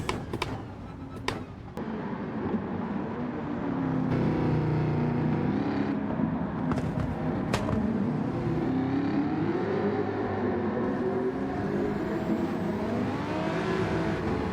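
A Jaguar F-type race car in Gran Turismo 7 drives on with a sustained engine drone whose pitch rises and falls through the gears, steady and fairly loud. A few sharp clicks come near the start.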